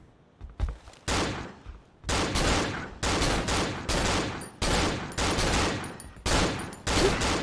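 Enemy gunfire in the horror game Cry of Fear, loud close bursts of repeated shots in rapid volleys separated by short gaps, with no talking over them.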